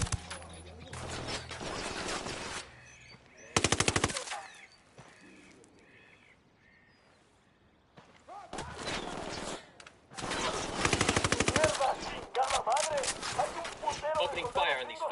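Bursts of rapid machine gun fire in the game Ghost Recon Wildlands come in several loud, dense stretches with quieter gaps between, joined by other clattering game sounds, and voices talking over parts of it.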